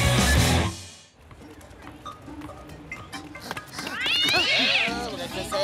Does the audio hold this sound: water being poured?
no